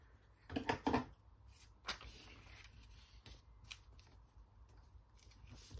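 Scissors snipping paper for an altered envelope ephemera folder, quiet close-up crisp cuts and paper rustles, with a cluster of quick snips at the start and a few scattered later.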